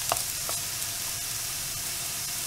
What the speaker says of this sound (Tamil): இது இன்னும் ஒரு 2 நிமிஷம் வதக்குவோம்.